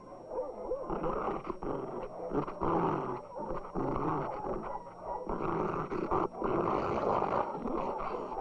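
A trained dog growls low and menacingly, a continuous rumbling snarl close up, rising into rougher bursts with brief pauses.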